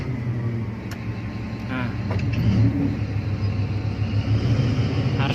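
Caterpillar 785C haul truck idling and raising its dump body: a low, steady diesel rumble with a slight rise in engine note, fairly near, while someone speaks briefly over it.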